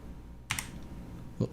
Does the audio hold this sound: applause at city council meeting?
no